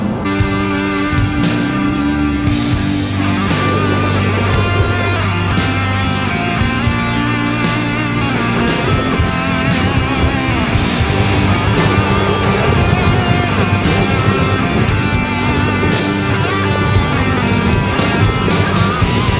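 A BMW X3 M-Sport is driven in sport mode, heard as a continuous road and engine roar from inside the cabin, with repeated sharp ticks and knocks over a steady, loud drone.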